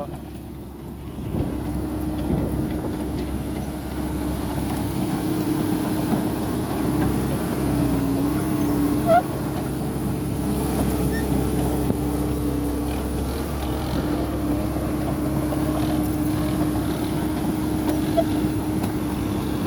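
A heavy tractor engine rumbles steadily and loudly throughout, a low continuous drone with a mechanical hum and no talking.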